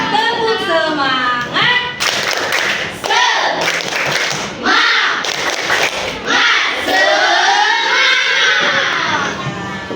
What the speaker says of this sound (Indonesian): Ayo sama-sama tepuk semangat.